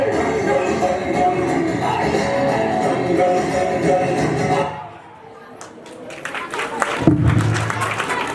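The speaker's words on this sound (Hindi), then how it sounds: "इतनी शानदार प्रस्तुति के लिए जोरदार तालियां।" Loud, dense applause from a school audience at a Republic Day celebration fills the first few seconds, then cuts off abruptly. A brief lull follows before voices and crowd noise return.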